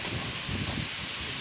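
Wind gusts through the open air on a cool, breezy night outside beehives. It makes a steady, close, broadband rushing and rustling hiss, like leaves and wind buffeting the microphone.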